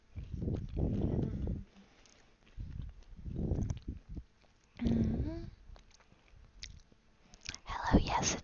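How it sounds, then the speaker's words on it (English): Crunchy chewing close to the microphone in an ASMR setting, coming in several bursts with soft whispery voice sounds between them. "Please excuse my crunch."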